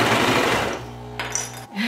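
A loud whirring Brother 1034DX serger overlock machine runs in a fast buzzing burst, then slows and stops, followed by a few light clicks and a brief mechanical whir.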